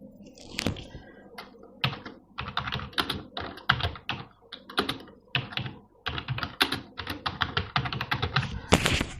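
Fast typing on a computer keyboard while entering data in an Excel spreadsheet, close and clear, with bursts of rapid clicky keystrokes broken by brief pauses.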